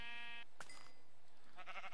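Minecraft sheep give two short blocky bleats, one at the start and another near the end, with a brief game click in between and no talking.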